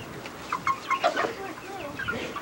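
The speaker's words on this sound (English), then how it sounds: "No chickens, Raja." Chickens cluck in a series of short, mid-pitched calls at close range, with soft background noise around them and no talking.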